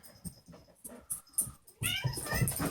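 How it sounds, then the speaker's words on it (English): A dog whines and whimpers in short bursts, growing louder and more insistent toward the end, with faint voices in the background. "And the dog and cat are arguing"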